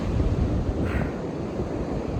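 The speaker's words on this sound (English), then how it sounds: "I'm just so captivated by the ocean, by the sound of the waves." Ocean waves wash onto a beach at the Iles de la Madeleine as a continuous rushing surf roar, steady and fairly loud, mixed with wind buffeting the microphone.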